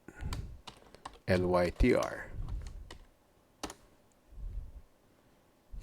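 Quick clicks of keys on a computer keyboard come in short bursts, close and fairly faint, while someone speaks over part of the typing.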